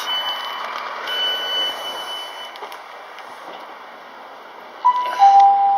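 A rumbling train interior gives way near the end to a short two-tone electronic chime, ringing out clearly above the steady background noise.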